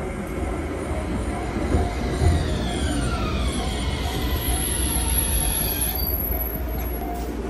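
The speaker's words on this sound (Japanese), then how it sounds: "ドラえもんトラムがやってきました。" A Doraemon-themed tram arriving on the Manyosen line in Toyama, a steady rolling rumble with high wheel squeals sweeping across the rails as it pulls in close by.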